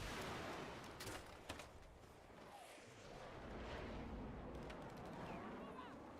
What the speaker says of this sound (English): I forgot this is one of those kind of cannons.